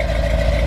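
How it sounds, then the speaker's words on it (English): A 1968 Chevrolet Corvette 427 coupe with dual exhaust idles close by, giving a brief, steady, low, pulsing rumble. "Get a little rumble back here. It's a Corvette after all."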